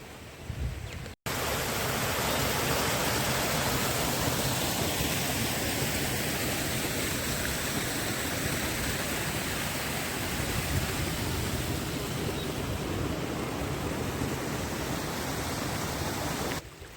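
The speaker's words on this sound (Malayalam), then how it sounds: "എന്തോരം ഹൈറ്റിൽ നിന്നാണ് ഈ വെള്ളം ചാടുന്നത്" Koothunkal waterfall at Rajakkad, a loud continuous roaring rush of falling water, broad and steady throughout after a brief cut near the start, with no voices.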